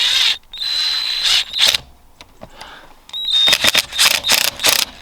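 A power drill fitted with a long bit tightens the clamp on a car's pod filter during installation: two loud, close whirring runs, each a few seconds long, separated by a quieter pause.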